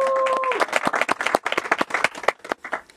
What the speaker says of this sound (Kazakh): Шапалақтарыңыз.